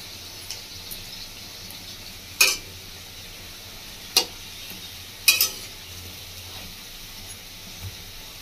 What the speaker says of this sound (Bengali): বড়াটা একটু ভালো করে ভেজে নেব।